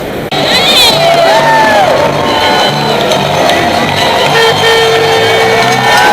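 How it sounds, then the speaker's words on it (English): A large crowd cheers, whoops and shouts along the New York City Marathon course, loud and continuous throughout, with voices blending into a dense roar. "It's been fun with the crowd cheering and everyone running with us."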